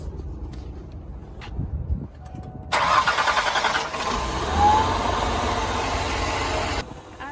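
A car engine cranks and catches during a jump start, then settles into a loud, steady idle close by, with faint handling noises before it starts.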